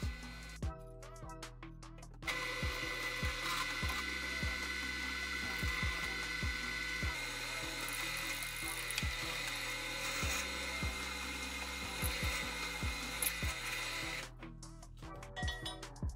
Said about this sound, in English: Once the drilling was done